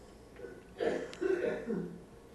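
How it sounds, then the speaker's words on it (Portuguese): A few throaty coughs in quick succession, close to the microphone, with a brief pause between bursts against a quiet room background. "Still coughing."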